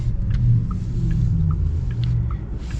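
A 2024 Porsche Taycan electric car driving on a road, heard as a steady low rumble of motion and road noise with a few faint higher tones on top, continuous throughout with no talking.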